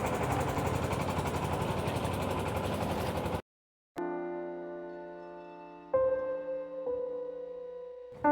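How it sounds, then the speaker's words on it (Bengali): A motor trawler passes a small boat on the Buriganga river in Dhaka, its engine a loud, dense, rumbling drone for about three seconds before it cuts off abruptly, followed by sustained tonal sounds. "একটা ট্রলার যাইতেছে।"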